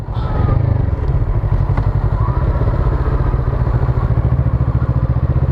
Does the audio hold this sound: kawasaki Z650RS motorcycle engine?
yes